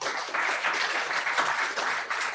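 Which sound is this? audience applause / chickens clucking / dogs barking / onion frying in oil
audience applause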